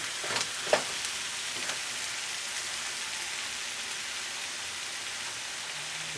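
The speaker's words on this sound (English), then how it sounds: "now with the tomatoes, as soon as they're in here, we're going to cook this down for about 5 minutes" Tomatoes cooking down in a pan with onions and tomato paste, a steady, even sizzle like light rain, with a couple of faint utensil taps early on, close and quiet.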